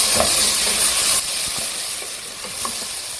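A tomato goes into a pan of frying dal, and a loud, steady sizzle and hiss fills the whole stretch with no one talking.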